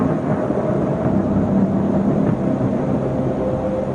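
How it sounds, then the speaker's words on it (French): Storm thunder over a lake, a low, steady rolling rumble that stays dense and continuous without sharp cracks. "Si l'orage éclate, le pire est à craindre pour John."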